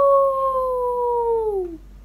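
A wolf in an animated folk tale lets out a single loud, clear howl that slides slowly downward in pitch and fades after nearly two seconds.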